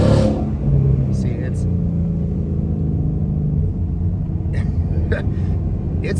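A Ford Mustang engine revs to about 4,500 RPM in track mode, a loud deep rumble that swells and then settles toward idle, with someone talking over it and a few sharp clicks.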